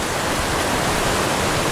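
A shallow, slow-moving stream runs across a hiking trail on the Timberline Trail. Its flow makes a steady, loud, broadband rush and gurgle that stays close and continuous throughout, with no talking.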